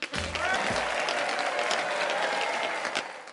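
Hands clapping in a steady, dense patter like applause, continuous for about three seconds, with a brief voice at the very start.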